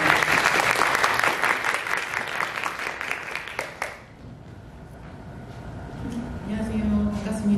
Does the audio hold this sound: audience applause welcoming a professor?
yes